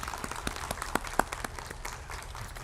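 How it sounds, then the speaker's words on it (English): Scattered audience applause at a city council candidates forum, a soft, diffuse wash of clapping with a few sharper individual claps standing out, fairly quiet and distant. "Round of applause, please."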